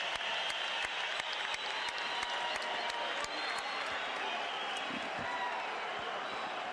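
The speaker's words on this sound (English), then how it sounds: "listen to this crowd as they finish the Mexican national anthem" Boxing arena crowd roaring and applauding after the Mexican national anthem at the Barrera vs. Morales fight, a distant wash of cheers with sharp claps and thumps over a steady hum, and a voice speaking briefly partway through.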